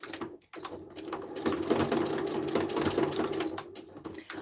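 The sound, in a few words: sewing machine stitching sequins on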